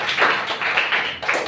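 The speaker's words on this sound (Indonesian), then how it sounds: "Tepuk tangan dulu" A short burst of clapping from a small group, brisk and fairly close, with no talking.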